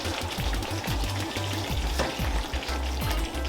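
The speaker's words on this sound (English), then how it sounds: "let the ground beef cook in this sauce" Ground beef frying in a spiced, herb-laden sauce for Jamaican beef patties, a steady close sizzle with repeated scraping and stirring strokes of a utensil in the pan, no talk.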